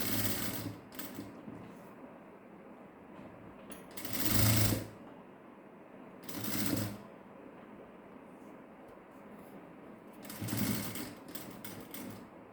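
A sewing machine stitches a cotton saree blouse on a long stitch setting. It runs in three short, fairly quiet bursts, separated by stretches of near silence.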